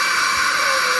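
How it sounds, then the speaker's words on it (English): A household vacuum cleaner runs close by with a steady loud whooshing roar and a faint higher whine, unbroken for the whole moment with no voices. "The babies are all attracted to the vacuum."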